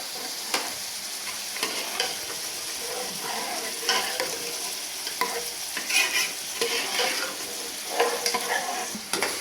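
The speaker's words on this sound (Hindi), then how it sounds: "दूसरी तरफ मैंने प्याज और तड़का तैयार करने के लिए छोड़ा हुआ है।" Loud, continuous sizzling of onions being tempered for dal in a hot pan, with irregular scrapes and knocks as the contents are stirred; no voices.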